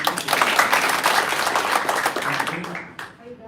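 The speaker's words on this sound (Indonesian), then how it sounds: "Tepuk tangan buat Yesus" A church congregation at a Sunday service claps together in a burst of applause that fades out near the end, with voices talking over it.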